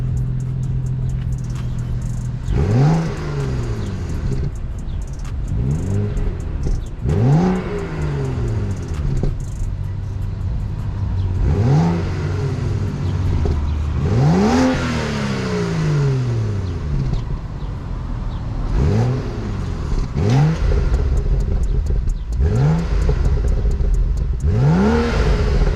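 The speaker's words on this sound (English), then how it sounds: "But then this is stock exhaust, you know, it's full muffler" A car engine with a completely stock exhaust and full muffler revs repeatedly, each throttle blip rising and falling in pitch over a steady idle, with mild burbles between revs and no talking.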